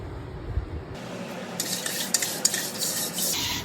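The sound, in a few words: scrubbing inside of new earthen pot with wire scrubber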